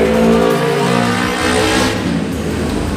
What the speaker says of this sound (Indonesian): suara motor yang baru lewat tadi juga seksi guys